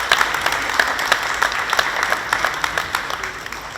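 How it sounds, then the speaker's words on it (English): Sustained applause from an audience in a gym, steady bursts of clapping across the whole stretch, fairly close and loud, with no talk over it. "Let's give the Creator a round of applause."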